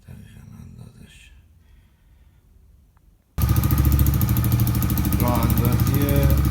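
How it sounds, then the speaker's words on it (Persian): A small 70cc Pishro motorcycle engine fitted to a BMX bicycle suddenly starts and runs loudly at a steady idle after a quieter stretch of mechanical noise. "راه اندازی انجین خشک پیشرو 70، یعنی موتور 70 سی سیه"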